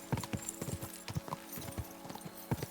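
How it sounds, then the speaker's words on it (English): Hooves clip-clop as a horse trots in the video game Kingdom Come: Deliverance 2, a steady, fairly quiet rhythm of hoofbeats on hard ground with no talk over it. "The strange but best little horsey in the entire Kingdom Come Deliverance 2 world."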